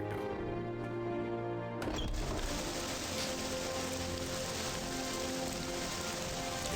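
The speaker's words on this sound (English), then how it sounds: "It's still raining." Steady rain falls in the Morrowind video game, a soft continuous hiss of drops on surfaces that holds evenly throughout, quiet and without voices.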